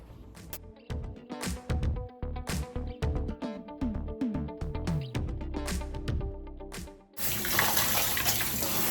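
Tap water running during a cold-water rinse of a curly wig, splashing in irregular bursts and spatters before changing into a steady, broad rush of flowing water near the end, close and fairly loud.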